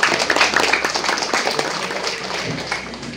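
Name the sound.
audience clapping at village opening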